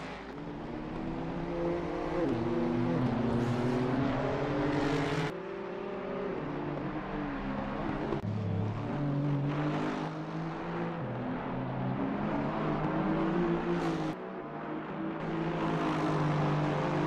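GT3 race cars including a McLaren lap the Nordschleife in a racing video game, engines droning and shifting pitch as they accelerate and upshift, a steady loud roar throughout.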